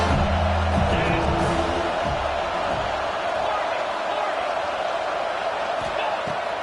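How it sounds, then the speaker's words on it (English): A large home crowd at a USC football game roars in a dense, sustained wall of cheering, loud and constant throughout, with a commentator's voice faintly mixed in. "how nice is it to have the home crowd going absolutely bananas?"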